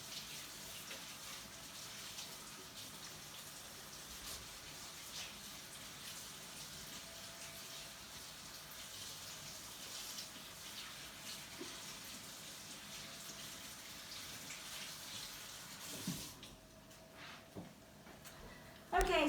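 Water from a kitchen tap runs steadily while hands are washed, a soft continuous hiss and splash that holds for most of the stretch before cutting off near the end.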